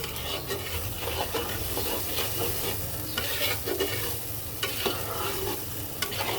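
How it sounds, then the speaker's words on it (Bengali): Ground coriander and cumin sautéing with mutton for a curry in a pan, a steady close sizzle with scraping stir strokes throughout and no talk. "এইবার সব কিছু খুব সুন্দর করে কষাবো"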